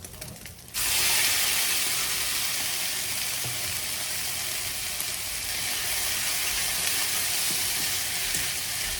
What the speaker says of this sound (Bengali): এখন এই নুডলগুলো দিয়ে দিচ্ছি।